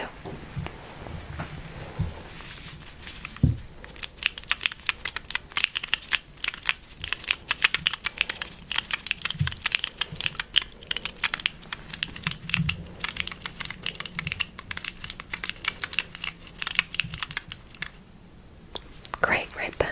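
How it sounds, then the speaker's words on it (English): Rapid typing on a small computer keyboard up close in a quiet room, dense clattering keystrokes that run steadily for most of the stretch, with a few soft whispers before the typing starts. "I have this little keyboard here, a small one."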